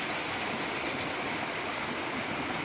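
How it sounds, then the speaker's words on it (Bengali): Water pouring down from above in an abandoned tunnel, a dense steady rushing roar like a small waterfall, loud and continuous with no break. "ওইখানে দেখতেছেন একটা পুরান মানে পরিত্যক্ত টানেল আর কি, এটা উপর থেকে জল আইতেছে।"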